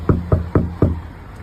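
Four firm, evenly spaced knocks on a door, close by and resonant, followed by silence.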